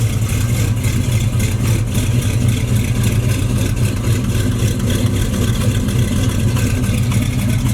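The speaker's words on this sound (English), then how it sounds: "Yeah, good running motor right here." A carbureted motor in a freshly painted two-door box Chevy runs steadily, giving a loud, continuous low rumble with no talk over it.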